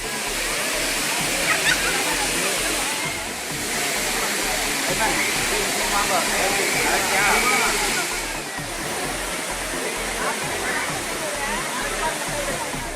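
Water roars down the Courtallam waterfall in a dense, loud and unbroken rush, a steady wash of sound that fills the whole stretch.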